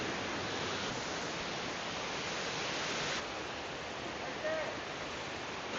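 Canoga Falls, a waterfall in Ricketts Glen State Park, Pennsylvania, roars steadily at close range as a dense, unbroken wash of falling water, with no voices over it.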